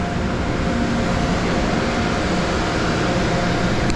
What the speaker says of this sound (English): can hear the air dryer in the background.